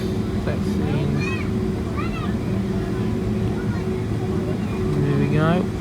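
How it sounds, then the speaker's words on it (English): An airliner taxis toward the runway at Orlando International Airport, its steady engine drone and hum continuous throughout, with faint voices and chatter scattered over the top. "taxiing down towards the runway at Orlando International Airport"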